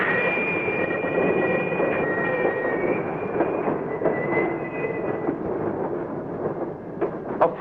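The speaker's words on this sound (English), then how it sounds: "Another car is slowed down and switched to the Chicago track." A freight train car rolls along the tracks in a switching yard, giving a loud, continuous rumbling roll with high metallic wheel squeals and faint clicks from the rails.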